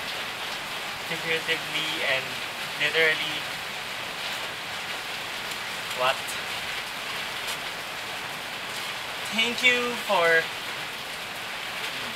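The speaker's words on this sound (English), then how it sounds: "I just want to give a message to the rain." Steady rain falls as a constant broadband hiss throughout, with a voice talking intermittently over it.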